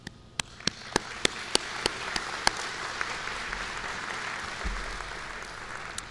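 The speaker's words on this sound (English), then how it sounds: "All of your supporters deserve a round of applause." Applause at a doctoral commencement ceremony, a soft, distant rain-like patter of many hands, with a few sharp, louder claps standing out near the start, quiet and continuous for the whole stretch.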